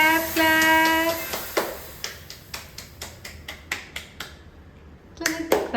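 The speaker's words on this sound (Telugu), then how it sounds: "clap clap" Sharp claps at a house-warming milk-boiling ceremony, a steady run of single hand strikes after a brief stretch of chatter, with a few more near the end.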